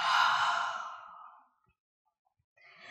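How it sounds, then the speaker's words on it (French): A single long, soft breath pushed out through the mouth during a yoga session, a steady airy exhale that fades to near silence, then a faint new breath or rustle starts at the end. "Expire par la bouche et relâche tout."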